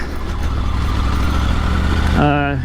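A Triumph Tiger 900 adventure motorcycle engine drones steadily and loud while riding up Canfield Mountain, a continuous low rumble. A voice speaks over it near the end.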